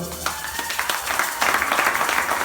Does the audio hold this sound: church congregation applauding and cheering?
yes